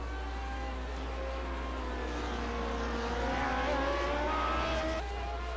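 IndyCar race cars in a racing video game at Road America, engines droning steadily with a pitch that slides down as the cars brake into a corner, loud and sustained with no talk.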